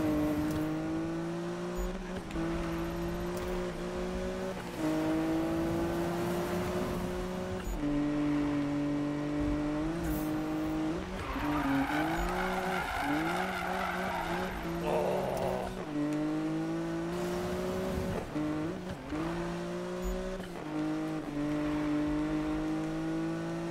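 Engine of a car in the Need for Speed racing game revs and drifts through repeated gear shifts and skids over a long stretch, loud and continuous, with brief squealing slides.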